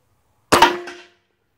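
A single airgun shot fires a Lucky Seven 777 .357-caliber 120-grain steel-core pellet, one sharp close crack with a short metallic ring that dies away within half a second, alone in silence.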